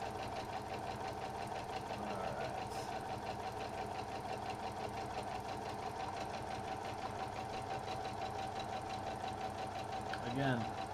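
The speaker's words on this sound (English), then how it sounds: "Don't forget to get your backward stitches in there as well, just to make sure that everything stays nice and locked and tight." A sewing machine runs steadily, stitching back and forth to lock the seam of a Japanese drawstring bag, a continuous even whir and needle chatter throughout.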